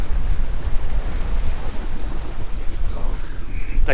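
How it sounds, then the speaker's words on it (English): Ocean surf under 3 feet heard from aboard a boat, a steady loud wash of waves with wind buffeting the microphone throughout. "The power of the ocean."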